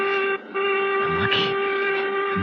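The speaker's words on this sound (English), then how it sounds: "And the whistle woke me up." A sustained, loud steam-style whistle sounds as a radio drama sound effect, holding a steady tone with a brief dip near the start before continuing to the end.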